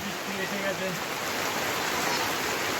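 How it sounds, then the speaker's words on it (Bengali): Steady, dense rain pours down in the Sundarbans, a constant close hiss that fills the whole clip, with a brief voice audible in the first second. "বৃষ্টি তো এসেই গেল"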